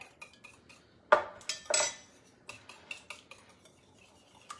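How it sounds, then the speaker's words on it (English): Eggs are being whisked with coconut oil and water in a bowl, giving quiet, uneven clinks and taps of the whisk against the bowl, with a couple of louder scraping strokes in the middle. "we're just going to whisk that just a little longer, making sure all those eggs are well incorporated with the coconut oil and the water"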